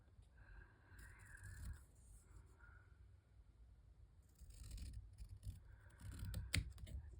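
Scissors trim paper for a craft project in short, quiet snipping bursts with pauses between them, close and soft, and no one speaks.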